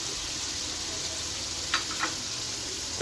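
A spice masala mixed with a blended onion and yogurt paste fries in a pan for a Hyderabadi murgh cholay, giving a dense, even sizzle with two brief scrapes near the middle.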